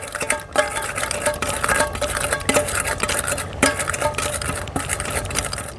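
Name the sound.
crushing cumin seeds with a ladle in a pot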